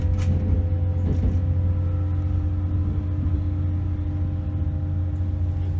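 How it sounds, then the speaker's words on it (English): Interior ride on a Class 800 train: a constant low rumble with steady hum, broken early on by a couple of sharp bumps and knocks as the wheels cross points, no speech. "You can still hear a lot of bumping as we go over points."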